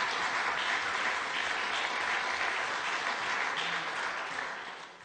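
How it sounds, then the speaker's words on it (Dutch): A room of council members applauds in a public session, a steady moderate clatter of many hands held evenly before tapering off. "Dus mag nog eens klappen"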